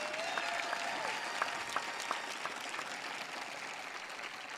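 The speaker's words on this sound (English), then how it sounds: "a round of applause for our PHSC graduates" Steady applause from the audience at a 2021 high school graduation ceremony honors the graduates, a dense, even wash of clapping with a few sharper nearby claps, held at a distance throughout.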